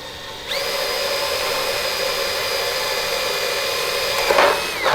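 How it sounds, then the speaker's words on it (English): A power drill bores a hole in a metal battery tray bracket, spinning up with a steady, loud whine that holds for several seconds close by, then gives a brief rougher grind as the bit breaks through before easing off. "Now we're just going to go ahead and send it with a center punch and a drill."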